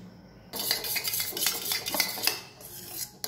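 Metal spatula stirring tomato and soy sauce in a wok for chili baby corn, a busy run of close scraping and clinking strokes against the pan that starts abruptly and stays loud, with no talk.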